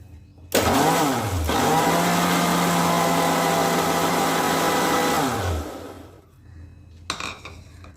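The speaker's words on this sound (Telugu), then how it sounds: "ఈ జ్యూస్ మొత్తాన్ని ఒకసారి మిక్సీలో వేసేసి తర్వాత ఫిల్టర్ చేస్తే మాత్రం జ్యూసు పీచు లేకుండా చాలా స్మూత్గా ఉంటుంది" A kitchen mixer grinder whirs loudly as it blends juice, starting abruptly and running steadily for several seconds before winding down to a stop, followed by a faint clatter.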